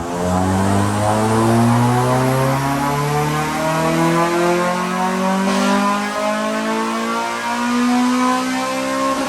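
A remapped Honda Civic EP3 Type R engine pulling through a dyno power run, loud and close, its rising drone sweeping steadily upward in pitch as the revs climb, with no talk.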